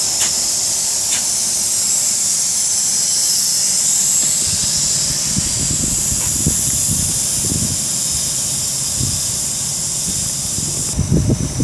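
A loud, continuous roaring hiss of a class 43 high-speed train power car's diesel engine idling under steady exhaust noise at Tamworth station, with faint clanks and thumps scattered throughout.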